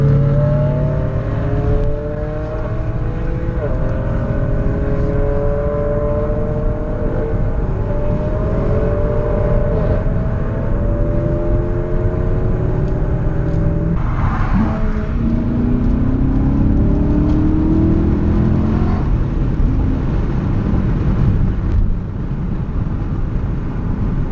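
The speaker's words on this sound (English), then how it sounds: "listen to these exhausts" BMW M5 and M4 exhausts revving on a city street, a continuous loud engine drone with repeated rising revs and shifting pitch sweeps, a burst of acceleration midway, close and without talk.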